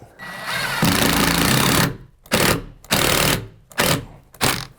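A power driver sinks a small trim head screw into a wood countertop. One long, loud, buzzing drive is followed by four short bursts spaced about half a second apart. The sound is close and has no talking over it.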